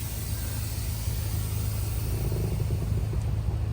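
A 10th-generation Honda Civic Si engine with a built short block idles up close with a deep, steady rumble and slight low pulsing, continuous throughout with no voices.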